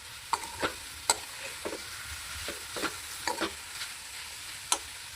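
Masala mixture being stirred in a frying pan over raised heat, with scattered scraping strokes of the spoon against the pan over a low, steady sizzle, close by and alone.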